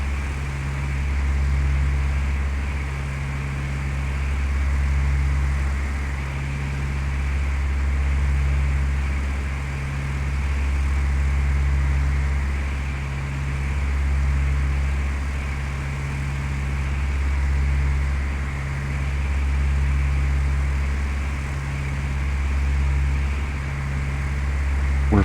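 A Cessna Skyhawk's propeller engine drones in Flight Simulator 2004 on approach with flaps at 20 degrees, a steady low hum with a slow rhythmic swell every few seconds, continuous and fairly loud throughout.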